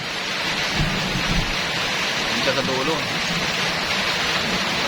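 Heavy rain pours steadily with rumbles of thunder in a storm, a dense continuous wash close by, while people talk briefly over it.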